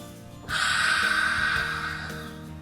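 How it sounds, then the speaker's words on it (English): A single long, breathy exhale through the mouth, close and airy, starting abruptly and slowly fading. "in through your nose. And out through your mouth"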